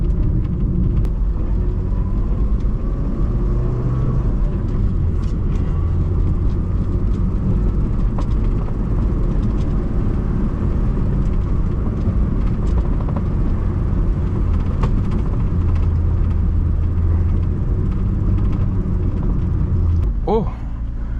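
A Fiat Uno rolls along with a constant low road and engine rumble heard from inside the cabin, and indistinct voices sit faintly beneath the drone.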